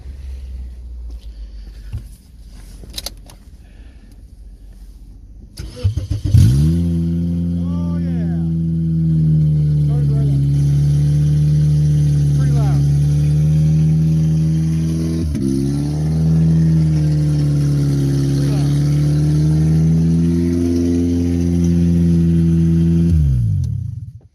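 After a few quiet clicks, an engine cranks and catches, then settles into a steady, loud idle that runs on.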